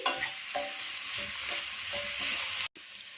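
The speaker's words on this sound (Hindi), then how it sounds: "इसको साथ साथ मैश करते जाएंगे और साथ साथ मिक्स करते जाएंगे।" Potato, green onion and green chili being mashed and mixed in a pan for samosa filling, with a continuous sizzle and rhythmic scraping strokes of a spoon, briefly cut off near the end.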